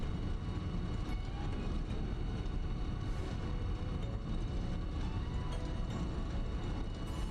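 A freight train in the factory-building game Satisfactory rolls past close by, a steady, loud rumble with a dense clatter of wagons that holds for the whole stretch, with no talk over it.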